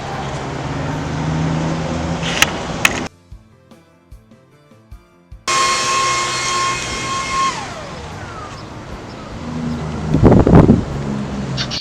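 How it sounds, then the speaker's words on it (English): An intercity bus in Tasmania pulls up at a stop, its engine and road rumble close and loud, interrupted by a short quiet gap before the motor noise returns with a falling whine and a brief burst near the end. "And then my bus arrived."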